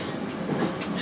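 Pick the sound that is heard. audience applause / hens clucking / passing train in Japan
passing train in Japan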